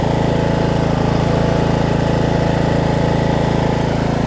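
A Murray riding lawn mower engine runs steadily on a cool day, a loud, close, even throbbing drone with no pauses or changes in speed.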